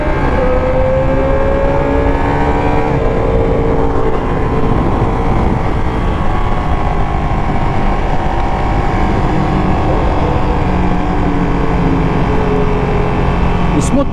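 A Ducati Panigale V2 motorcycle on the move, with its engine note climbing and dropping through quick-shifter gear changes and auto-blip downshifts under a constant loud roar of wind and road noise.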